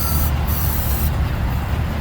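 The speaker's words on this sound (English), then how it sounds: "So I'm going to spray some carb spray right into the carburetor" Carb spray hisses in a continuous, loud, close blast into the spark plug hole of a 23-year-old Snapper mower, with brief dips in the stream.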